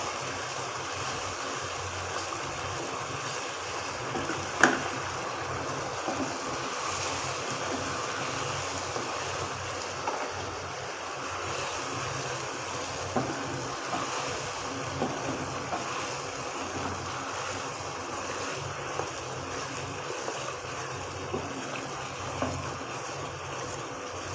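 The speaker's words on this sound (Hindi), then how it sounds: "भूनने के बाद इसके बाकी की यखनी डाल दें।" Broth poured over fried mutton head for siri paye simmers with a steady, dense bubbling hiss that holds evenly throughout, with only a brief sharper knock near the start.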